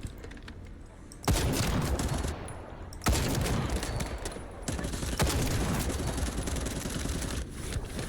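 Rapid bursts of gunfire from a gun in a video game, a dense ongoing fusillade with sharp onsets near 1.3 and 3 seconds, loud and continuous throughout.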